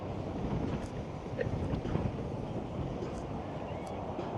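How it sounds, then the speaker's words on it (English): Strong gusty wind buffets a microphone while walking outdoors in Las Vegas, a loud continuous low roar and rumble with no pauses and no voice. "as you can very much hear, the wind has kicked up again"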